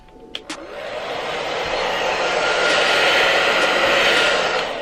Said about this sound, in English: I'm going to take the same blow dryer and put it in the cool setting and put it on low